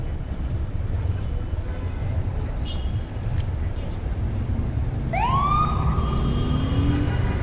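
On a busy Las Vegas street during the Grand Prix weekend, an emergency vehicle siren rises in sweeping wails partway through, clear above steady traffic rumble and crowd noise.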